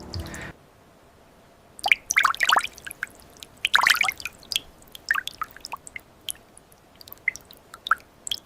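Rainwater drips and trickles through an open roof into a fire-damaged house after an overnight storm, with scattered irregular drops and brief splashy bursts, close by against a quiet background.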